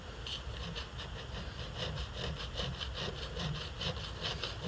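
Tapered needle file stroking back and forth along the edge of a knife blade during polishing, giving steady rasping strokes in an even rhythm at close range.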